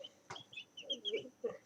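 Chickens cluck softly and close by in a few short, choppy bursts, with a faint background hum.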